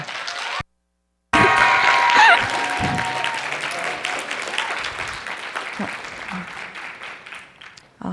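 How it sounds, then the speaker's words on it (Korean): An audience at a student presentation event claps for a high school student presenter. After a brief dropout, the applause arrives with a swell of cheering and a tonal cue, then tapers off gradually. "자, 큰 박수 부탁드립니다."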